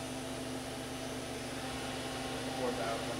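Fadal 4-axis vertical machining center shifting into high gear, its spindle whirring steadily upward in speed with a broad, even machine hum that stays constant and fairly close throughout, rising slightly near the end.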